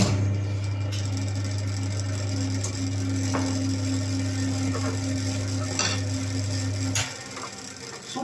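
A wood lathe turning a lidded piece drones with a steady, loud motor hum and rattle, then is switched off and the drone cuts out abruptly near the end.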